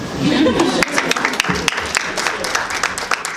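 Applause from an audience, a burst of many hands clapping that thins out into scattered claps, with some voices mixed in.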